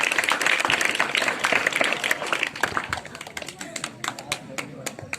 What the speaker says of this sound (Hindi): ताली बजाते रहिए आप लोग।